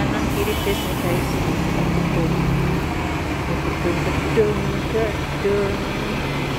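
Buses and cars passing on a busy afternoon road, a continuous rumble of engines and roadway noise close by, with a brief horn-like tone midway.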